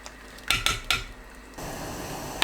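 Ladle or spoon clanks against a pot three times while kelp and other stock ingredients are lifted out of simmering broth for lettuce doenjang soup, followed by a steady low bubbling hiss.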